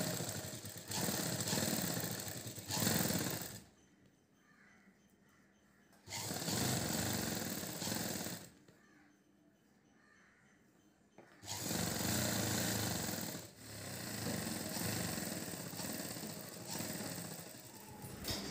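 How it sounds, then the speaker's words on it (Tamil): A sewing machine stitches along folded fabric for an umbrella-style chudidar top in three close, steady bursts of whirring, separated by short pauses. "இப்போ நம்ம சுற்றி மடித்து தைச்சாச்சு."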